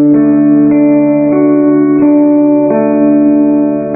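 Guitar strings finger-picked one after another, each clear ringing note plucked in a steady, even rhythm about every two-thirds of a second, close and loud with the notes overlapping as they sustain, no talking.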